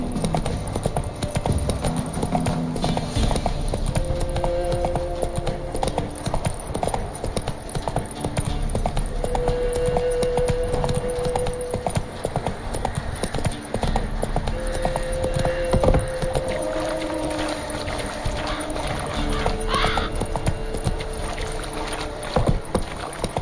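Roach, Geralt's horse in The Witcher 3: Wild Hunt, gallops with steady rapid hoofbeats running through the whole stretch, set against game music and ambient wind, with occasional faint voices in the background.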